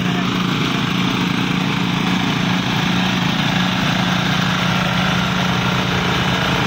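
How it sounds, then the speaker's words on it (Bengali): Several small mini power tillers of about 6 to 12 horsepower run together in a farm field, making a continuous, close, buzzing engine drone with a rough, throbbing low rumble that holds steady throughout. "সবাই জানাবেন কেমন লাগছে এবং কার কেমন এক্সপিরিয়েন্স একসাথে এতগুলো মিনি পাওয়ার টিলার।"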